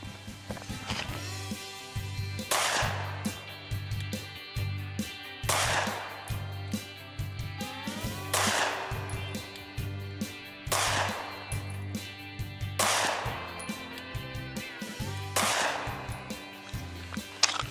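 A Sig P320 pistol fired at a range, about seven loud sharp shots spaced a couple of seconds apart, each followed by a ringing decay over a steady low background hum.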